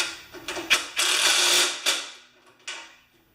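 Ratchet wrench tightening a bolt on a 1973 Briggs tiller, several bursts of clicking and a couple of sharp metallic clacks, close and fairly loud, with no talk.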